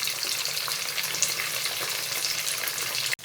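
Fish fries in a pan, a steady broad sizzling hiss held close and constant for a few seconds before cutting off abruptly at the end, with no one talking.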